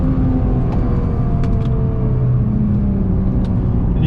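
A Nissan GT-R R35 accelerates hard out of a corner, its engine revving in a loud rising whir with rumbling tyre and road noise, heard close from inside the car.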